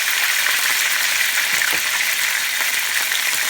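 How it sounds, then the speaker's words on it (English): Chicken sizzles in a hot frying pan, a dense, steady crackle of frying fat heard close up and alone, with no talking. "we're going to cook all the chicken in the frying pan"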